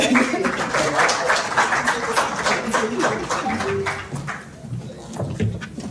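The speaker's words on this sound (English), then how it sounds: "Please keep clapping." A large crowd at a marketers convention clapping after a speaker's talk; continuous hall applause that dips briefly near the end before swelling again.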